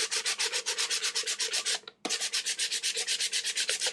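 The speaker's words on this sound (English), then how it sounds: "whenever you sand DIY paint, there is dust everywhere" Hand sanding of DIY paint on a mixed media wall art piece, a rapid run of close, loud rhythmic rasping strokes with a brief pause midway before the scrubbing resumes.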